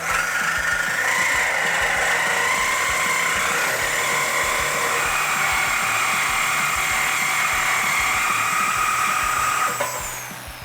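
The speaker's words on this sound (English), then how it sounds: "we've got a thin kerf, thin blade on the end of our Sawzall. We're just gonna make a cut straight down this line." A Sawzall reciprocating saw with a thin-kerf blade cuts through a car exhaust pipe during an axle-back install on a 2015-2019 Challenger 3.6L. A loud, steady, high motor whine runs close for about ten seconds, then stops abruptly.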